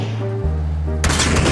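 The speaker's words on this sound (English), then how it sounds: "These motherfudgers decided to start shooting at me." Enemy gunfire in a video game: a low rumble, then a sudden loud, dense burst of shots that stays sharp and close to the end.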